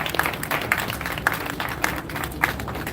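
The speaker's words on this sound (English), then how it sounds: "Let's do a big round of applause for him one more time." An audience applauds at a press freedom awards night in a hotel, a sustained crowd clapping with a few sharp distinct claps and whistle-like bursts at intervals, moderately loud and close.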